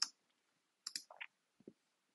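A computer mouse clicks a few times in quick, faint bursts separated by silence, close and isolated with no talk.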